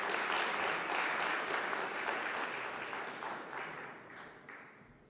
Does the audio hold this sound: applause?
yes